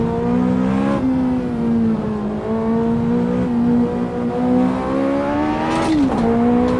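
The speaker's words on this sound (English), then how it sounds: "Once you get going, the car sounds a lot nicer." A video game car engine hums and revs steadily, its pitch rising and dipping with gear changes, loud and continuous, with no talking.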